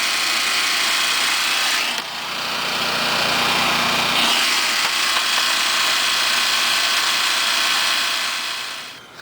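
A generator on a 1983 Sunrader camper catches and runs with a steady, loud, high-pitched mechanical whine and buzz that holds for several seconds before easing off.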